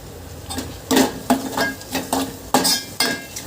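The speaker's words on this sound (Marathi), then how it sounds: "मी हे चांगल्यापैकी हलवून घेते मिक्स करते" A spoon stirs pasta sauce in a pan on the stove, with close, uneven scrapes and soft clinks repeating every half second or so against a faint background sizzle.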